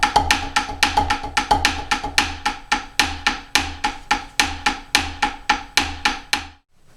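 Close snare drum runs a fivelet accent exercise, rapid even strokes grouped in fives with recurring louder accented hits, played solo for several seconds before stopping abruptly.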